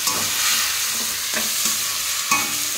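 Gobindobhog rice is stirred and fried in ghee in a pan, producing a loud, constant sizzle with a few scraping strokes of the spoon, with no talking.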